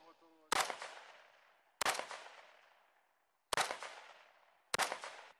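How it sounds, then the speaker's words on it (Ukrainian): Four sharp, separate gunshots from soldiers' shooting practice near the border in Volyn, each a loud crack followed by a long echoing tail, spaced unevenly over a few seconds, with a faint voice at the start. "Щоб кожен постріл бив точно в ціль, щодня відточують влучність."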